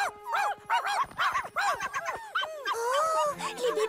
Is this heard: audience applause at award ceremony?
no